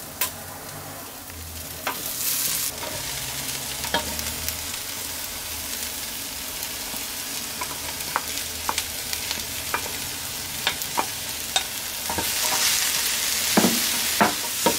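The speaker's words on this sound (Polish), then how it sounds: "a teraz możemy wrzucić do garnka pociętego pora i salera" Chopped leek and celery fry with onion in a pot, a steady sizzle through the whole stretch with repeated sharp clacks of stirring, loud and close, without talk.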